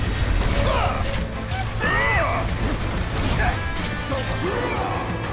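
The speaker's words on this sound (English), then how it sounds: "And summon ability, you can do a delta attack" Delta Attack summon ability in the video game Final Fantasy VII Rebirth, loud busy game audio of mechanical clanks, crashes and swooping effects filling the whole stretch, with brief speech-like sounds in the mix.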